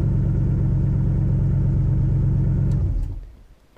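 A turbocharged Toyota 1UZ V8 idles with a loud, steady, throbbing rumble for about three seconds, then is switched off and the sound quickly dies away to near silence.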